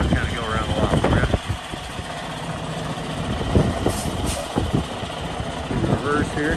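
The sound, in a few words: Freightliner Cascadia 113 truck engine running after start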